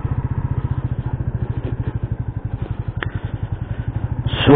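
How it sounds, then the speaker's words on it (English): Royal Enfield Meteor 350 motorcycle engine thumping steadily while riding, a close, continuous rapid pulsing beat that holds throughout, ending with a brief burst of rushing wind noise. "It's a big bike, it's a super stable and smooth bike."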